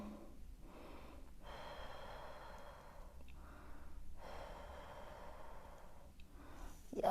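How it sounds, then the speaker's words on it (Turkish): Steady heavy breathing during a postpartum exercise session, slow inhales and exhales repeating in a near, even rhythm with brief pauses between breaths and no talking. "Nefes alıp vermeye devam edelim."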